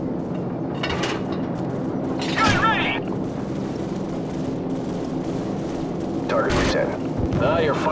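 Rumbling weapon fire and booms from Call of Duty 4: Modern Warfare gameplay, a dense continuous roar with sharper bursts near 2.5 and 6.5 seconds, under a radio voice.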